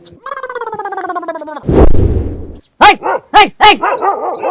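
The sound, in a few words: dog barking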